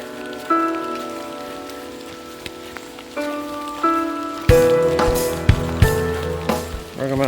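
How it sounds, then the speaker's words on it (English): Rain falling at Lake Monroe during a backpacking trip, a steady hiss of drops on surfaces with scattered sharper patters that grow louder and denser partway through, with no talk. "the rain picked up again, unfortunately, but we are here at the lake"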